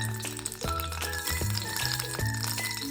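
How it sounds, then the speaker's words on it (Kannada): Mustard seeds and cumin hit hot oil in a pan on a gas stove, crackling and popping in quick irregular bursts with a steady sizzle underneath, close and fairly loud. "ಸಾಸಿವೆ ಹಾಕ್ತಾಯಿದ್ದೀನಿ, ಮತ್ತು ಸ್ವಲ್ಪ ಜೀರಿಗೆ ಆ್ಯಡ್ ಮಾಡ್ಕೊಳ್ಳೋಣ"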